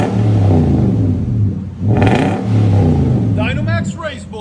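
A 2011 Nissan Titan SV Texas Edition with a 5.6L V8 and a Dynomax Race Bullet exhaust, its muffler cut off, rumbles loudly and deeply at close range, surges in one brief rev, then settles as a voice speaks near the end.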